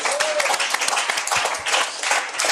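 Studio audience applauding during a talk-show interview segment, dense broadband clapping holding steady and fairly loud throughout, with a faint voice briefly heard underneath.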